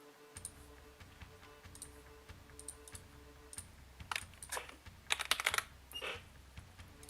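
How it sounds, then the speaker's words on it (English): Computer keyboard keys clatter during a Hellish Quart fencing match, light regular tapping at first, then dense bursts of rapid clicking toward the end. "Both of them using keyboard."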